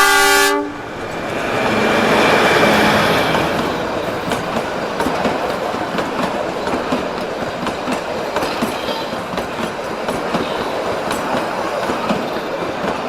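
A Kalka Shimla railway train passing near a tunnel on a mountain line, opening with a loud horn blast, then a steady rumble and clickety-clack of wheels with some squeal, close and sustained.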